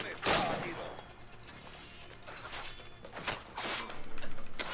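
Gunfire in the pirate-era game Assassin's Creed IV: a few sharp shots scattered through a noisy battle scene, fairly loud, with a voice briefly audible in the mix.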